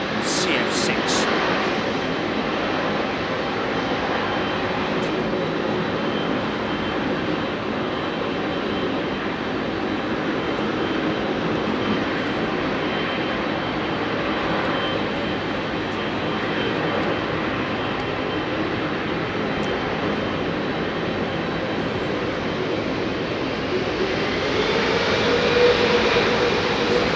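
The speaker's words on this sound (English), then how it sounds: "Awesome sounds because of the engines on that 764" Boeing 767-400 with CF6 engines at Heathrow Airport, a steady broad jet roar holding at full strength throughout, with a brief rising whine near the end.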